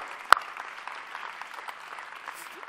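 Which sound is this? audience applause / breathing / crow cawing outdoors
audience applause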